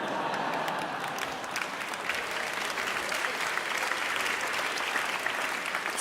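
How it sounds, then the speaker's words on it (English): TEDx audience in Berlin applauding a card trick, dense sustained clapping from a large room filling the whole stretch without pause. "Stop the clapping."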